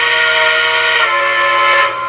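A Lionel Legacy model steam locomotive whistle sounds loud and sustained for about two seconds in a bright multi-tone chord, then trails off, with no talking.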